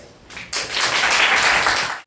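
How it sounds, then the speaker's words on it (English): An audience at an academic conference claps to welcome a speaker, a dense wash of applause that swells after half a second and holds steady before cutting off. "So please welcome Dr. Chris Weible with a round of applause"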